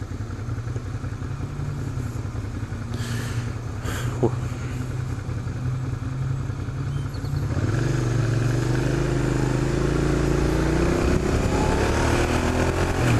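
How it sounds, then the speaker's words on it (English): A Suzuki SV650 motorcycle idles with a steady rumble, then pulls away from a complete stop, its engine note rising loudly as it accelerates through the gears. "So right now I'm going to show you guys taking off from a complete stop"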